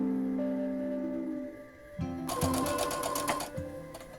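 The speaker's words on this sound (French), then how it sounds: "Ah, le son d'une machine à coudre." A sewing machine stitching denim, its rapid mechanical whir starting and stopping in short runs with a motor hum in between, close and fairly loud.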